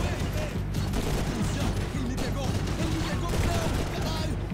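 SMG bursts in the video game Max Payne 3, rapid gunfire crackling in repeated volleys amid combat effects, with someone talking over the action.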